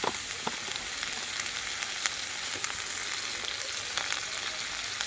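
Raw green tomatoes frying in a pan, a steady close sizzle with small crackles and pops running throughout, no talking.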